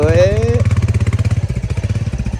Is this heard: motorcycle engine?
yes